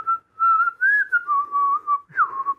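A person whistles a wavering melody alone, several sustained notes sliding up and down with short breaths between phrases, close and clear.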